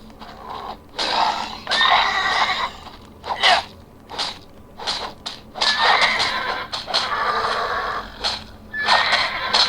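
A horse in the video game Titan Quest neighs and whinnies in several loud, shrill bursts with short pauses between them, close by and with no talking.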